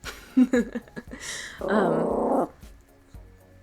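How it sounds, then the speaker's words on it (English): A dog sounds off close by with a few short yips, then a longer low growling grumble, followed by quiet. "She's still barking at the mailman."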